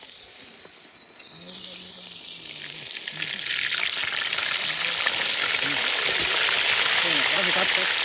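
Masala-coated mountain crab frying in oil beside a waterfall, a steady sizzle blending with rushing water that grows louder and fuller partway through.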